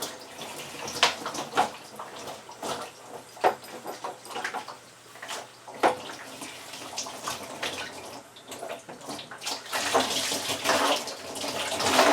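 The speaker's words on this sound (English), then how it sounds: "this is one of those regular maintenance things of a hot water boiler, is to flush the bottom of it." Water flushes out from the bottom drain of a hot water boiler during maintenance, a close, gushing, sputtering flow that surges and splashes unevenly, growing stronger toward the end.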